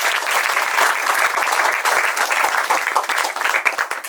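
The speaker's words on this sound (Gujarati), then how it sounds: "આપણે જોરદાર તાળીઓથી વધાવીએ" Dense, steady applause from an outdoor crowd at a tree-planting ceremony, loud and continuous throughout with no voices over it.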